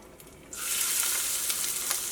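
Chopped ginger hits hot coconut oil for Kerala puli inji, setting off a loud, steady, close-up sizzle after about half a second of quiet that holds evenly to the end, with no talking.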